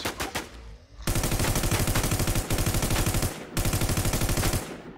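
Machine-gun fire in the zombie survival shooter Infestation: The New Z rattles off in rapid sustained bursts with short pauses between them, loud and close with no talking.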